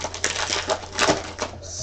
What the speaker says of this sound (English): When I'm typing, sometimes my fingers just go a little too fast